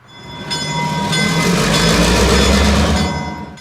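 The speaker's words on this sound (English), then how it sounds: "The set of F units on Train 61 slowly notched the consist into motion" Santa Fe F unit diesel locomotives power Golden Gate Train 61 out of the San Francisco Bay Area, a loud, close, steady engine roar with rumbling low end building over a few seconds and then easing slightly.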